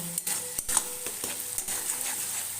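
Spices sautéing over a high flame for egg and potato dal, a close, bright frying hiss punctuated by several quick scrapes and taps of a spatula stirring in the pan.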